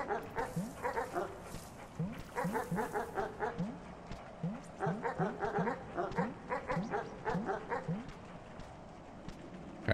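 Dogs barking in the video game Animal Well, a steady run of repeated yelping barks in quick clusters across the whole stretch, fairly faint and with no talk over it.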